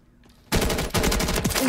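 Pistol gunfire in the Modern Warfare 3 video game, a quiet lead-in that breaks into loud, rapid, continuous shots close up.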